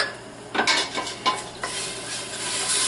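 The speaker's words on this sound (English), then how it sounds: "I use a dry red wine. You can use whatever you want. Just going to deglaze the pan a little bit." Dry red wine hits a hot stew pan and sizzles. A few sharp bursts of hiss and scraping come first, then they settle into a steady frying sizzle.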